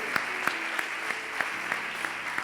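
A church congregation claps together in a steady rhythmic beat, sharp unison claps about three per second under a faint hum of the room.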